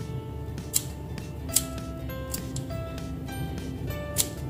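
Scissors snip through fabric around a baby turban bow headband, a few sharp cuts standing out over steady quiet room noise with no talking.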